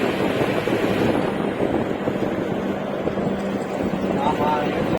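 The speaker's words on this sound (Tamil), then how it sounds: "வண்டியே ஒரு மாதிரி கப கப கப கபம் இருக்குதுன்னா நீங்களே பார்த்துக்கோங்க." An empty lorry rumbles along while driving, its engine a steady, heavy low drone mixed with wind buffeting, with a voice faintly present beneath.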